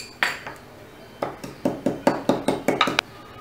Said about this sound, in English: So we would require to pound the jeera a bit